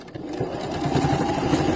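A sewing machine stitching torn dresses runs in a steady, fast mechanical whir with rapid needle chatter, close and loud throughout.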